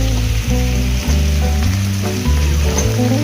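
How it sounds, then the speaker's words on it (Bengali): Raw banana and vegetable stems are stir-fried in a pan for Bengali sukto: a loud, close sizzle with repeated scraping and shuffling as the pieces are turned, over a low humming background. "এটাও আমরা অল্প করে নেড়ে নেব"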